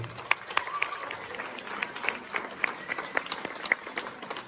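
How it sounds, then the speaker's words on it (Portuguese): A small audience clapping at a football club event, scattered individual claps ringing out sharply above a soft, fairly quiet bed of applause. "peço um forte aplauso para o Alberto"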